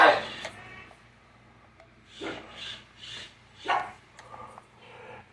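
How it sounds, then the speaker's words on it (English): Dogs barking at a remote control car, a few short sharp barks and rasping bursts at moderate distance, spaced out across the clip with quiet gaps between them. "Dogs aren't used to the remote control car yet."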